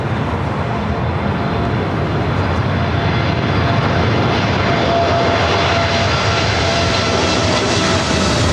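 A Lufthansa airliner landing on runway 24 Right at Los Angeles International Airport produces a loud, sustained engine roar that stays steady and close throughout, with no voices.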